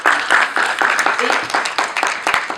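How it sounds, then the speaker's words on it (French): An audience applauds at an interview event with steady, dense clapping that carries through the whole stretch, and a voice speaks briefly over it. "je vais juste demander qu'on applaudisse"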